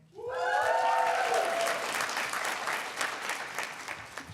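Sustained audience applause fills a graduation hooding ceremony hall, starting with a brief burst of voices over the clapping, then dense steady clapping that slowly thins near the end.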